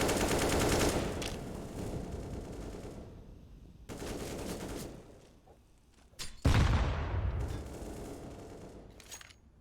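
Gunfire in a Counter-Strike esports match, Eternal Fire versus Galaxy Racer: sustained loud rifle bursts that cut off abruptly, then a sharp heavy shot and a further burst fading out.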